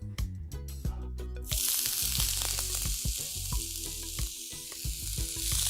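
Onions hit a really hot, lightly oiled pan and burst into a loud, close sizzle after a brief quieter start; the crackling hiss then continues strongly over a faint tonal background.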